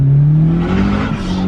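Nissan S14 with an SR20 engine and external wastegate screamer pipe accelerating close by, a loud rising engine roar with a raspy edge that holds steady through the short burst.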